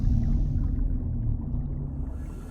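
Deep, sustained whale-like call from a large creature in the underwater game Subnautica, a loud low rumbling drone that fades slightly across a few seconds, heard alone.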